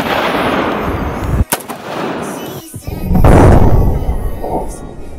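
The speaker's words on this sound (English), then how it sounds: "This time, when shooting in the middle, the bullet managed to punch its way through 5 iPhones and land on the 6." A single loud AK-74 gunshot fired into a stack of iPhones, a sharp crack followed by booming outdoor reverberation, with a voice speaking briefly over the roar.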